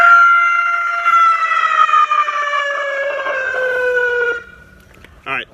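A siren wail played through a Powercall USB6100 MP3 100-watt siren amplifier, a loud electronic tone sweeping downward for about four seconds before cutting off, followed by a short burst of another sound.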